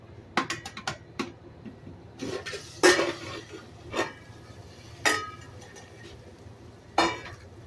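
Metal pot lid lifted off a pot of cooked cabbage, with sharp clinks and clanks of lid and utensil at intervals, a soft stir and faint background hum between hits.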